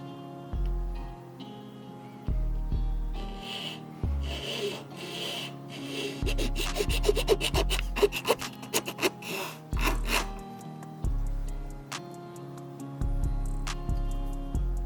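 A plastic model kit windscreen for a scratch-built Star Wars ship is trimmed to size with a hand tool, giving rhythmic rasping and scraping strokes with clustered small clicks, close and moderately loud, over a faint low hum.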